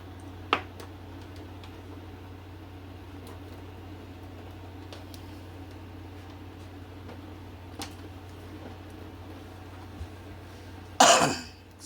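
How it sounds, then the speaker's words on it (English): A single sharp cough bursts out near the end after a long stretch of quiet room hum, with a faint click earlier on. "Excuse the cough."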